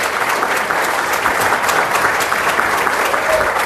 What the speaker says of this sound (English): So, Dr. Vincent Chan, please give him a round of applause